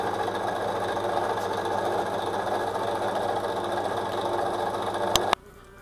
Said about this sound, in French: je commence par couper un gros bloc d'aluminium